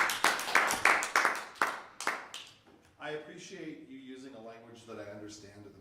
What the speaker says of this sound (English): All right, let's clap on that.